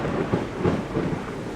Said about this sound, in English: A jarring blast of thunder shook the forest